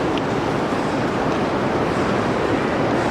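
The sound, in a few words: heavy rain pounding on a Walmart roof during a tornado warning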